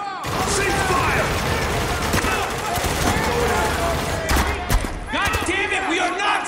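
Sustained gunfire fills a firefight in the game Spec Ops: The Line, with dense rapid bursts and shots cracking continuously over several seconds, loud and close, with shouting voices mixed in.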